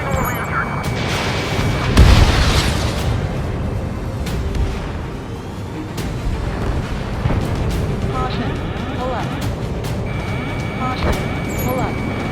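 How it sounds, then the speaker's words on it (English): A heavy explosion booms in the Ace Combat 7 campaign mission "Homeward", with a loud blast early on followed by rumbling and crackling over game sound and radio chatter. "An explosion inside!"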